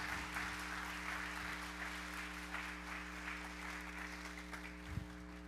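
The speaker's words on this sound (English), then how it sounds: "Please give a warm welcome and a round of applause to Dr." An audience at a college convocation applauds to welcome Dr. James Hansen, with dense, even clapping that holds steady throughout and sounds fairly distant.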